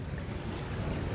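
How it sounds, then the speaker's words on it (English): Wind blowing around 20 knots past a reefed sailboat at sea under a small craft advisory, a steady dense rush of broadband noise and buffeting with no voices. "well, it's blowing 20 knots here and we're all reefed in"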